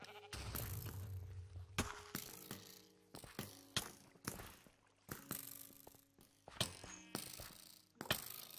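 Sheep bleat repeatedly in the Minecraft Sheep Wars game, short cries scattered over about eight seconds amid clicky mechanical game effects and a low background hum.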